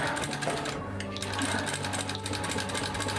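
A sewing machine stitching a floral dinosaur water bottle bag runs with a steady rapid mechanical hum, close and continuous, with faint talk in the background.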